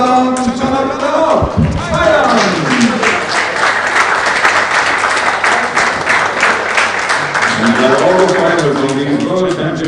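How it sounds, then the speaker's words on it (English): Spectators applaud athletes at a para shooting world championship 10m air pistol event in Al Ain, sustained crowd clapping under a loud announcer's voice over the arena speakers. "A big applause for the Czech athlete who is coach Roman Olechowski."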